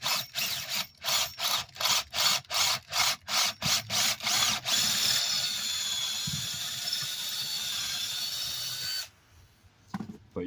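A drill bores a hole with a 1/4 inch bit, in short pulsed bursts that repeat rhythmically before settling into one steady, loud grinding run, then stopping abruptly, close up.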